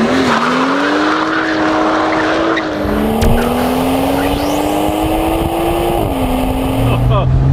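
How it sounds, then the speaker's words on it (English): A loud sports car engine revs and roars continuously, pitch rising and dropping through gear changes, with a brief tire squeal and a voice faintly underneath. "Listen to that engine."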